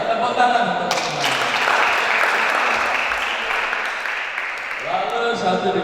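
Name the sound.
audience applause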